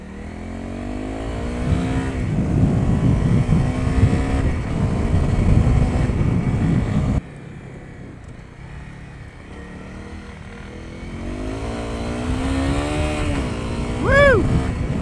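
A Honda CRF250L dual-sport motorcycle with a 13/42 gearing change runs steadily with a droning engine, its pitch rising and falling through shifts, then drops briefly quieter before building again; a rider's whoop comes near the end.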